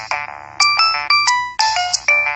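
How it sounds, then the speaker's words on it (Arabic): A phone ringtone signals an incoming call: a loud, bright electronic melody of short repeating tonal phrases that plays on alone for over two seconds with no talk over it. "مين اللي بيرن عليا دلوقتي ده؟"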